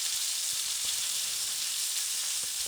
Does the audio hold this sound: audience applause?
no